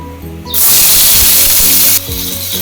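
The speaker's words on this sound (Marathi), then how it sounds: "तेल आपलं गरम झाले व्यवस्थित। आता त्याच्यात मी कांदा घालून घेते।" Chopped onion dropped into hot oil in a pot bursts into a loud, sudden hissing sizzle that holds steady, then eases slightly to a softer frying crackle, heard close up with no talking.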